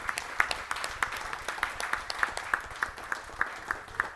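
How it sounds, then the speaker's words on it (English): An audience at an evening revue applauds with a thin, fairly quiet patter of claps, individual hand claps standing out in a loose rhythm over several seconds. "Let's big round of applause for them."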